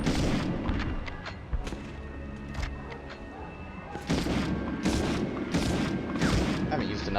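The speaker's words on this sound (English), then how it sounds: "these are regular frag grenades that are somehow like direct impact" Frag grenade explosions in the Medal of Honor game, several loud booms and crashes spread across the moment, mixed with game sounds and someone talking over them.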